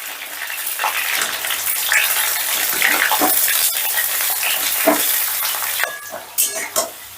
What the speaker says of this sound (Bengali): তেলটা গরম হয়ে গেলে প্রথমেই আমি ঢ্যাঁড়সগুলো ভেজে দিচ্ছি